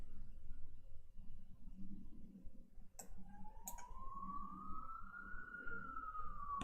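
An ambulance siren passes outside a window, a faint, distant wail that rises and slowly sweeps back down over room noise, with a couple of brief clicks before it starts.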